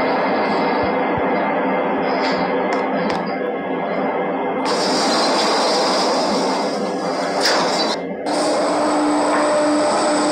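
An airport transit station elevator descends, giving a loud, steady mechanical rumble and whir that shifts midway with a rise in broadband noise and a brief drop near the end, with no voices.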